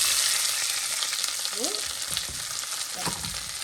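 Cherry tomatoes tumble into a hot pan with garlic while cooking Tuscan butter shrimp pasta, raising a loud, steady, close sizzle with a few soft knocks from stirring, and no voices.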